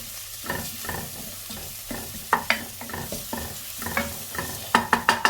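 Grated garlic sizzling in a frying pan while being stirred, a continuous hiss broken by repeated sharp scrapes and clicks of the utensil against the pan that grow louder and quicker toward the end, with no voice.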